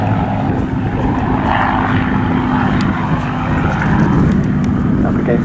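A pair of Spitfire fighters, a Mk3 and a Mk5, fly at Southport Airshow with a steady, loud propeller-engine drone that never lets up, and a voice talks over it.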